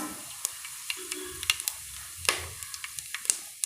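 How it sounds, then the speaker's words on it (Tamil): Whole spices, namely bay leaf, cinnamon, cloves, fennel seeds, stone flower and cardamom, fry in hot oil for a chickpea gravy, giving sporadic sharp pops and crackles over a faint, quiet sizzle. "எல்லாம் நல்லா பொரிய ஆரம்பிச்சிச்சிங்க"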